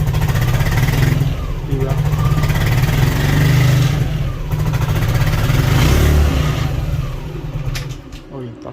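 A Yamaha Aerox scooter with an engine fault revs under throttle, its loud nearby drone rising and falling in uneven surges before dropping away at the end, with someone briefly speaking over it.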